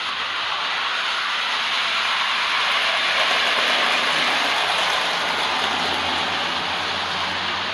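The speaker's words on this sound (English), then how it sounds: "I've got the train running pretty quickly now, and we'll see it come down over the streamline point" A steady, loud mechanical clatter and whir of a small model train running fast over streamline points, with a continuous rattling rhythm and no talking.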